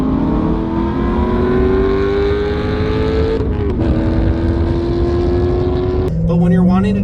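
A Corvette C7 accelerates hard under paddle shifts, its engine note climbing loud and close, with sharp drops in pitch at each quick upshift, the second shift near the end followed by renewed revving.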